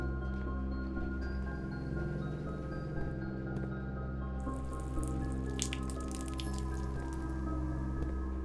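A sink tap runs in the Blue Prince video game, a soft steady trickle of water that picks up into brighter splashing drips partway through, quiet and alone under a faint background tone.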